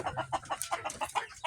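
Native chickens cluck in a quick, irregular series of short, close, fairly faint calls from a backyard coop.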